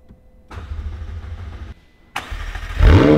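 A McLaren 720S engine starts with a sharp whine and a burst of cranking. It catches and then swells into a loud, close rev at the end.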